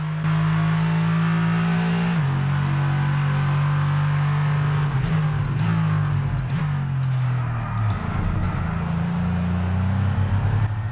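A safety car in the F1 22 video game, driven in fourth gear, roars under full throttle with a steady, loud engine note that drops and climbs through shifts. The engine bogs down at moments as it pushes hard out of a corner.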